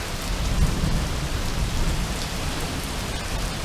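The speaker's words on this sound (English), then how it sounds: "I love rainstorms." Heavy rainstorm with thunder, a dense, loud, steady wash of falling rain with a deep thunder rumble swelling early on, and no voices.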